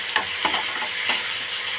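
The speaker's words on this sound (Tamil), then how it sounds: "போட்டு நல்லா வதக்கிக்கலாம்." Tomatoes with salt sauté in a hot pan, with a bright steady sizzle and a few quick scraping stirs of a spatula, close up, in a short burst without voices.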